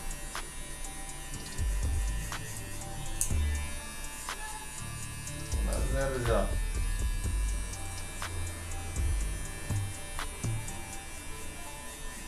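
WMARK NG222 cordless hair clipper running close by, a steady high-pitched electric buzz with a humming undertone, swelling briefly louder a few times as it is handled, with no talk over it.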